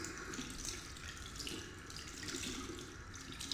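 A bathroom sink tap runs in the video game Fahrenheit: Indigo Prophecy Remastered, a steady, faint, continuous hiss of flowing water with no talk.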